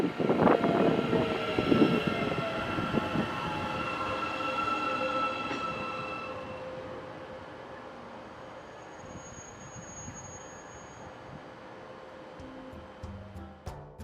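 Ride aboard a Matangi electric multiple unit train heading to Wellington, interior rumble and motor whine loud at first, then easing into a quieter rolling hum with a few clanks and squeaks toward the end.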